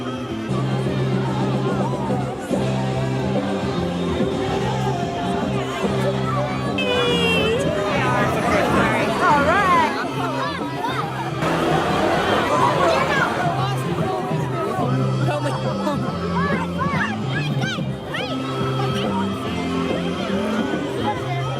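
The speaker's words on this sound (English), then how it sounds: "the crowd squeezed its way through the gates and into the park" A crowd of families streams through park gates for a Christmas tree lighting, a dense, loud hubbub of overlapping chatter and voices that continues throughout.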